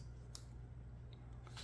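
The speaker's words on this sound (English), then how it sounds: "So I'm going to cut this a little bit." Scissors cut card in a few short, quiet snips over a low steady hum, with no talking.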